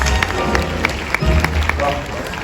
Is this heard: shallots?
no